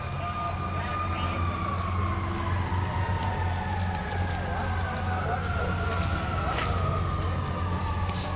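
Fire engines, including a Park Ridge tower truck, arrive at a 1997 disaster drill. A wailing siren sweeps up and down continuously over a steady low engine rumble and broad background noise.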